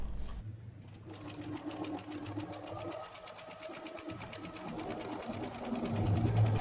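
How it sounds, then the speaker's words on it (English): A sewing machine runs a zigzag stitch along a fabric edge for a shirred bandeau dress, a steady close mechanical whir with fast regular needle ticking throughout, fairly quiet. "Now we sew the edge and look, such a clean finish, just as good as a serger."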